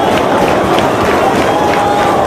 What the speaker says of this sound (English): I can't hear over this crowd.